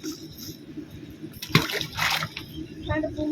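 Water running and splashing through a stream in Wadi Al-Disah, a desert valley in Saudi Arabia, a close irregular babble and splash with bursts of spattering.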